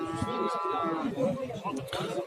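A middle-aged grey cow at a livestock market in Kursab moos with a drawn-out, harmonic low call early on, while people talk and bargain nearby throughout.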